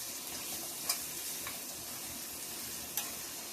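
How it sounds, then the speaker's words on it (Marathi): Boiled eggs being sautéed in masala for egg biryani, a steady, fairly quiet hiss of frying with two faint clicks of a utensil, close, with no talk. "अंडे याच्यामध्ये छान असे परतवून घ्यायचेत आपल्याला, म्हणजे छान असा मसाला आपला अंड्यामध्ये पण जाईल."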